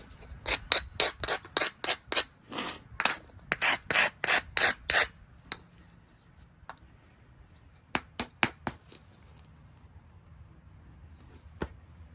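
Steel file rasping across a corner tang knife blade to thin it, a fast run of sharp, evenly spaced strokes, then a pause and a shorter burst of strokes, close and clear with no talking.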